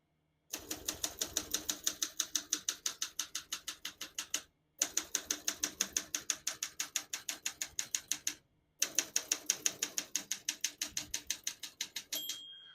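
Rapid, even keystrokes on a 1969 Olympia SM9 portable typewriter clatter in three long bursts separated by brief pauses, ending with a single bright ring of the margin bell.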